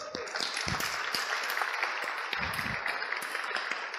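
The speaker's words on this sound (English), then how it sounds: "Can we have a round of applause for these two?" Steady applause from an audience, a dense patter of many hands clapping continuously, moderately loud, with some voices mixed in.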